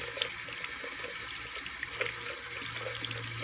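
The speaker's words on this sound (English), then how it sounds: "I'm going to submerge my Beauty Blender in the water and make sure it doubles in size" A Beauty Blender makeup sponge soaks in sink water that gently sloshes and trickles, quiet and close, with a soft steady running-water hiss underneath.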